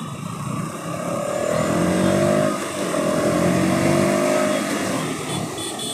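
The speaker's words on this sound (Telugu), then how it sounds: "ట్రాఫిక్ అంటే హెవీగా ఉంటుంది." Heavy road traffic heard from the road: a loud, continuous drone of vehicle engines whose tones rise and fall as vehicles pass, with no talking.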